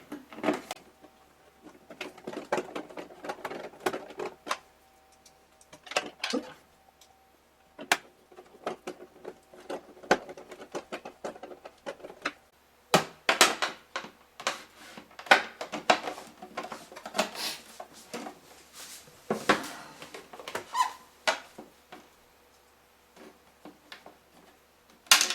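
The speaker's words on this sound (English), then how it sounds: "you reinstall the back plate screws" A Phillips screwdriver drives the back plate screws into a Kenmore Elite Whirlpool refrigerator, giving faint, irregular clicks, ticks and small scrapes in scattered bursts close by, with no talking.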